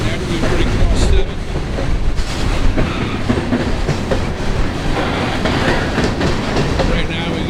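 A train rolls past on railroad tracks near a crossing at night, a loud continuous rumble and clatter of wheels on rails that holds steady throughout.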